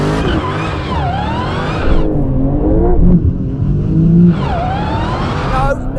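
A Dodge Challenger Demon's tires spin at a race launch, with a loud revving engine and tire squeal rising and falling in repeated sweeps, interrupted by a lower rumbling stretch midway.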